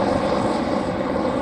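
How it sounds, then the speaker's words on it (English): A helicopter flying near Santa Monica Pier gives a steady, loud engine and rotor drone that fills the whole moment, with no voices over it. "I think these guys like to watch their helicopter work on my channel."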